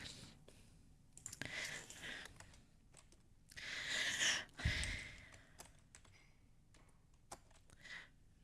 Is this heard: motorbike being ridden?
no